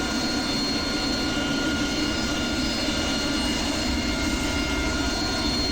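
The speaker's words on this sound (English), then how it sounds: "Place the water switch in the takeoff position and observe an increase in RPM, fuel flow, and jet pipe temperature" An AV-8B Harrier jet engine in the DCS game drones steadily and loudly with water injection engaged, a constant, dense whine and roar with no variation and no voices.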